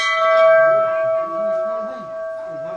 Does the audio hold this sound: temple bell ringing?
yes